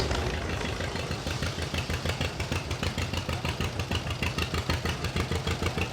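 An antique mass-produced tractor engine runs steadily nearby, chugging at a low, even idle with a regular pulsing beat.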